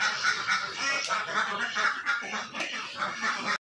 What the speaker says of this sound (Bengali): মনিকা, তুমি আগে হাঁসকে আদার দাও, হাঁসকে আগে খাবার দাও, তারপরে ডিম তোলো।